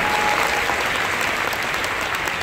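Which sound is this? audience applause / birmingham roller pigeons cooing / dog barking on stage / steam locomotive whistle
audience applause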